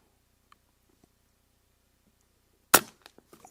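A single sharp crack from an Avenge-X Classic .177 air rifle firing a JSB pellet or slug, close by and loud, followed by a few faint clicks in an otherwise quiet setting.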